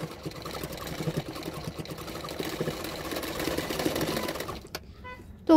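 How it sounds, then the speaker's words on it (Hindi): A domestic sewing machine stitches blouse fabric, a fast, even mechanical whirring at close range that runs steadily for several seconds and then stops abruptly. "उल्टा करते और एक सिलाई डाल दूँगी।"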